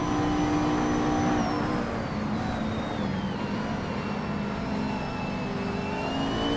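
Racing car engines in a video game, led by a 2015 Cadillac, a sustained loud whirring drone with engine pitch slowly falling and shifting as the cars hold their speed.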